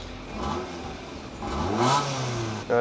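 A Ford Focus fitted with a Renault Espace engine, its exhaust line slightly faulty, runs close by with a rough idle that swells into a rising rev before settling.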